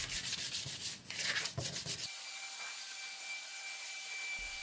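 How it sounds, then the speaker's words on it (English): Someone scuff-sands a wooden mirror frame by hand with 150 grit sandpaper. Loud, close rubbing strokes last about two seconds, then stop, leaving a quiet steady hum. "I scuff sanded the whole thing with 150 grit sandpaper"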